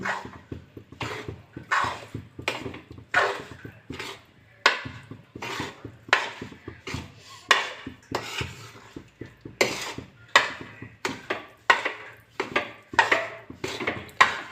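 Flour mixed with ghee is stirred in a pan for adadiya, making a rhythmic series of scraping, thudding strokes of a spoon against the pan, fairly close and steady throughout with no speech.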